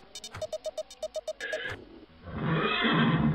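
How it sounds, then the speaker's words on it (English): A video game horse neighs in a quick series of shrill, pulsing whinnies, followed by a rush of broad, noisy movement. "There's a horsey."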